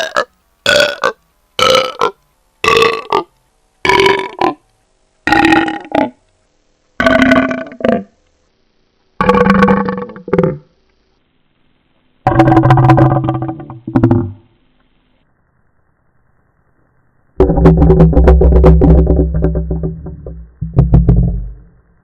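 A burp heavily altered with Audacity effects plays back as a run of short, pitched bursts that grow longer, then stretch into a drawn-out, warbling low belch.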